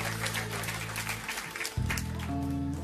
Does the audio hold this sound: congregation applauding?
yes